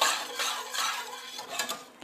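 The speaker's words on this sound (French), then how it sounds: "donc vous remuez régulièrement" A spoon stirring a Marseille soap laundry mixture in a pot, giving a steady scraping and clinking against the metal with no talking.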